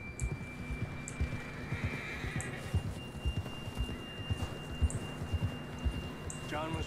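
In Red Dead Redemption 2, a horse whinnies close by amid steady clip-clopping hooves and a soft patter like rain, with a few faint voices in the background.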